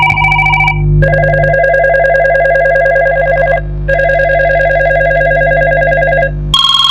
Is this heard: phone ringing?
yes